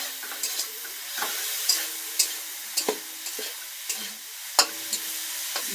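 Green chili, ginger and garlic paste frying in a pan, a steady hiss of sizzling oil broken by repeated scraping stirs of a spatula, close and moderately loud with no talk.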